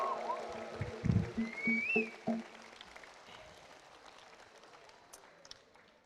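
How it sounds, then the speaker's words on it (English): Clapping from an audience at the opening ceremony of an international pencak silat championship, a brief burst that fades within a couple of seconds into quiet room tone, with a faint whistle-like tone drifting above. "can we please give him a round of applause?"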